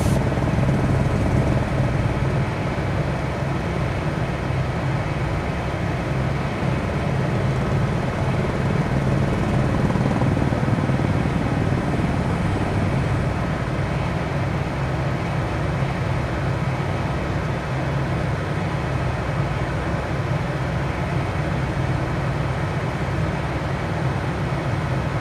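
A helicopter cruises in Microsoft Flight Simulator 2020, its rotor and engine holding a steady, loud, unbroken drone throughout.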